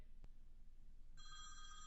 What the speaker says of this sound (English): there's the phone call coming in